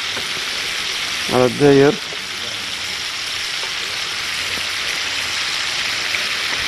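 Eggplant fries in oil in a pan, a loud, steady sizzle and crackle that runs right through the clip, with a brief spoken phrase early on.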